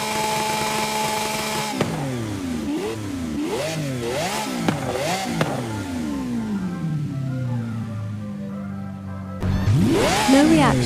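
A Lamborghini Aventador SV engine in Forza Horizon 5 revs repeatedly, bouncing off the rev limiter in a series of rising and falling wails, then winds down before a sharp rev returns at the end.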